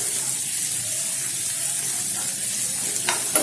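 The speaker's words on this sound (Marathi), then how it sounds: "आता याला छान आपण आता आलं लसूण आणि कांदा मस्त आपण गोल्डनच्या वरती परतून" Ginger, garlic and onion sizzle steadily in hot oil in a home kitchen pan, browning for a peanut amti; a soft, even frying hiss throughout with a brief clatter near the end and no talking.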